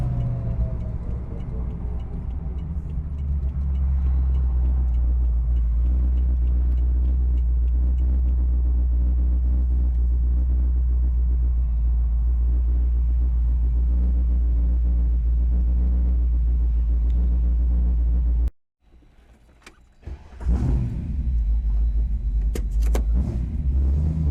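Engine of a 1966 Shelby GT350 convertible replica rumbling steadily up close as the car rolls into a gas station, cutting out abruptly near the end before a brief restart of the low drone.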